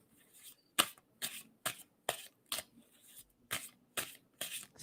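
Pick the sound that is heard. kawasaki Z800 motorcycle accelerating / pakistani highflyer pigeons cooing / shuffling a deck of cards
shuffling a deck of cards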